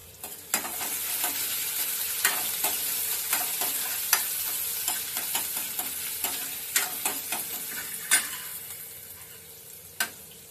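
Finely chopped onion sizzles in hot oil in a kadai for a Malvani-style okra curry, a steady close frying hiss broken by sharp clicks of stirring throughout.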